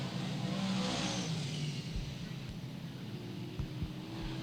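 Stock cars race out of turn two in a 100-lap race at a short track, a steady roaring engine drone with revving that holds loud and continuous throughout, no voices.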